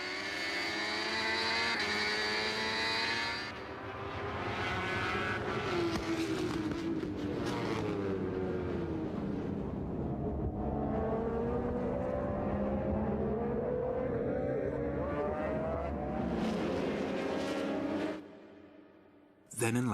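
Kawasaki Ninja ZX-RR MotoGP racing motorcycles roar past during a race, engines rising and falling in pitch through loud, sustained revving, with a brief dip near the start and a sudden cut near the end.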